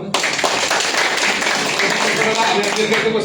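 Audience applause for a scientist at a DXN company gathering, a dense continuous wash of clapping from a crowd filling the room, steady and loud throughout.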